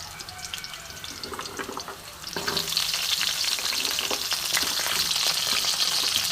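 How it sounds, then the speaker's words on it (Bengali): Amaranth stalks tipped into a kadai over lightly fried potatoes, then a steady close sizzle of frying that swells louder partway through, with faint scraping of stirring and no voices. "আমি দিলাম কড়াইয়ে এবার আমি এটাকে ভালো করে ভাজবো"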